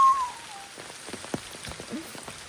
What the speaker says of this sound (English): Oh wow, the rain has increased.